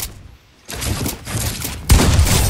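A drum gun fires in Fortnite, rapid bursts that start after a short quiet, run on as a dense rattle and grow louder near the end.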